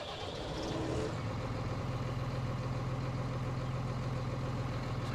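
Steady, droning tractor engine under load as it pulls a Kuhn 5 furrow plough in Farming Simulator 19, a continuous low hum with no talk.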